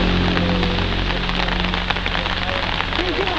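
Steady rain pours on a surface in a dense, even hiss with scattered drops, continuous and fairly close, with faint voices or singing in the background.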